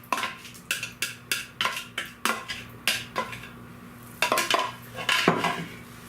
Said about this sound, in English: Now, mix the pineapple in.